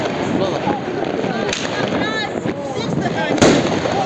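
New Year fireworks going off outdoors, with two loud sharp bangs standing out among continuous crackling and popping while people talk nearby.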